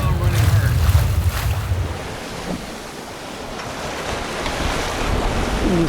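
Sailboat running hard through waves and wind between Barkley Sound and Sidney, with heavy wind buffeting the microphone and water rushing and splashing along the hull, strongest at the start and surging again near the end.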